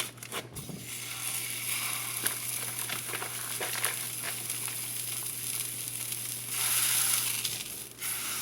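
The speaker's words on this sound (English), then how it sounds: "We're gonna go ahead and throw in our sausage. Get that browned up" Sausage browns in a hot pan while being broken into small pieces. A close, steady sizzle is marked by crunchy scraping and stirring strokes, swelling louder toward the end.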